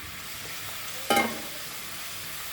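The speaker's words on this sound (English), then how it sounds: "Now we'll add our squids" Squid pieces dropped into a hot frying pan give a short burst of sizzling and stirring that rises suddenly and then settles back into a low, steady background hiss.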